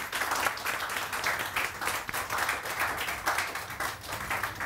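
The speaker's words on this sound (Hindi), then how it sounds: "वाह जी इनके लिए तालियां बजाइए जरा." Studio audience applause on a Pakistani morning TV show, steady dense clapping sustained throughout, moderately loud and close with no talk over it.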